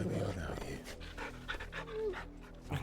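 Dog companion Torgal in Final Fantasy 16 panting softly in rhythmic bursts, with someone talking over it.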